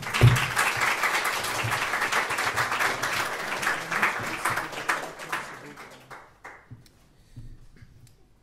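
Audience applause at a Rust programming meetup, a dense patter of clapping hands that fills the room for about six seconds and then thins out into a few scattered claps before quiet.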